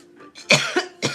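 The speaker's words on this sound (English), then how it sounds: "Oh, excuse me, got a cough on that one." Three sharp coughs close to the mic, a short one followed by two harsher bursts, after a faint breathy lead-in.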